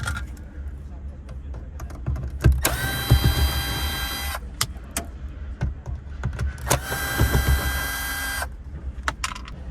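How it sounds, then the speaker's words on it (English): A T15 screwdriver backs two screws out of the dome light assembly in a Volkswagen cabin, two bursts of whirring, buzzing driver noise with clicks and handling knocks between, fairly close. "you're gonna take again your T15 screwdriver and remove these two screws"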